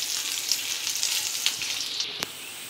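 Chopped onion and garlic frying in hot oil for a dal tempering, giving a continuous bright, crackling sizzle with small pops throughout, close and fairly loud.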